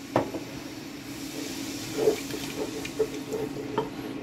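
A paprika base of fried garlic and red pepper sizzles steadily in a pan after water is poured in, with a soft bubbling hiss and a few clinks of stirring, moderately loud and close.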